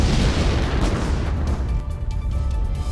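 A dense, continuous roar of firecracker explosions from a fire at a stock of firecrackers, booming and crackling without pause, loud and close.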